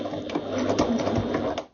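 A sewing machine stitches quilt binding in a quick, even run of needle strokes, close and moderately loud, for a short burst before slowing to a stop.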